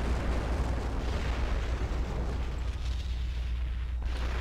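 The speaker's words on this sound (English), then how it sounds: "it looks like a rock impacted the planet. They're gonna start impacting the planet" Rock impact on a planet in the space strategy game Sword of the Stars: a sustained, loud, low rumbling roar like a distant explosion, steady throughout with no clear individual hits.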